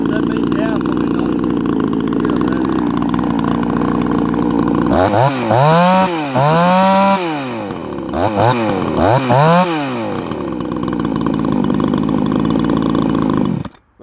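A ported Bradley G395xp chainsaw with a muffler mod runs close and loud, holding a steady high scream before several sharp rev-ups and drops in a row, then settling back to full throttle and cutting off abruptly at the end.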